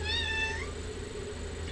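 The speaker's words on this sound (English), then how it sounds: "The cat's talking to me." A house cat gives one short, rising-then-falling meow up close in a quiet room, lasting about half a second over a steady low background hum.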